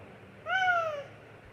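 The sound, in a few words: little boy imitating a cat's meow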